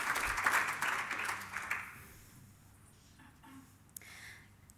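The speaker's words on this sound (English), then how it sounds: "I'd like to take a moment and just have a round of applause for that" Brief applause from an audience at an annual alliance meeting, clapping in the first two seconds then fading into quiet room tone.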